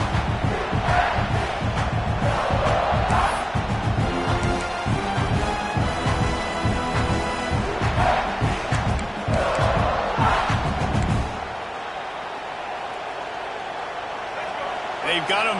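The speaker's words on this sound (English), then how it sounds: "They've got them pinned deep in their own end, and this crowd trying to help keep them there." A football stadium crowd roars and cheers in a sustained, dense wall of noise under play-by-play commentary, then drops away sharply near the end to quieter talk.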